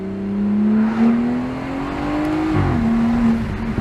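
A modded BMW 340i M-Sport accelerating hard from inside the cabin, its engine note climbing steadily through a gear with a brief dip at a shift, loud and continuous with no talking.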